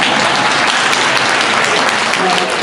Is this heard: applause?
yes